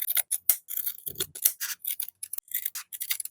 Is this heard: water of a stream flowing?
no